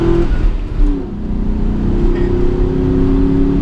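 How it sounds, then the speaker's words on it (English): An SN-95 Ford Mustang GT V8 engine revs loudly and close, its deep tone dipping briefly then climbing steadily in pitch as the car accelerates. "I love this V8 though, like it just has something about it, you know, like eagerness to rev"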